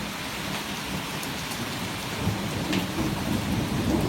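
Heavy thunderstorm with steady, loud rain pouring down and low thunder rumbling underneath, a dense unbroken wash of noise that swells slightly toward the end.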